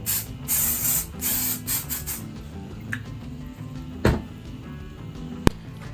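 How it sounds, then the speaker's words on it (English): Several short, forceful hissing bursts of mold release spray for silicone casting in the first couple of seconds, then quieter shuffling and a sharp tap. "It's a very good universal mold release spray for silicone and plastic casting."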